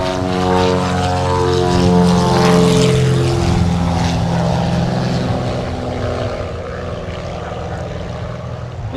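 A JetBlue airliner roars in to land at St Maarten airport, a loud, sustained engine drone swelling and then slowly fading as it passes overhead.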